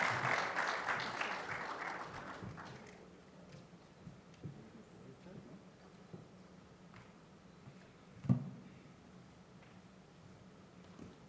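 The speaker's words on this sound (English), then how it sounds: "Let's continue with the hand clap and give him the energy needed." An audience at a mining and hydrocarbon conference claps for a presenter taking the stage; applause is moderate at first, fades after about three seconds into quiet room noise with a few stray claps and a thump.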